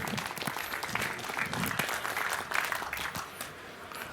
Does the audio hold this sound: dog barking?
no